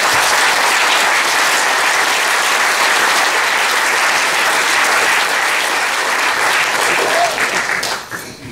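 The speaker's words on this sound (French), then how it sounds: "J'aimerais bien qu'on applaudisse nos services municipaux." Loud, sustained applause from an audience at a forum on free public services, thanks directed at the municipal services, dense overlapping clapping that holds steady before tapering off near the end.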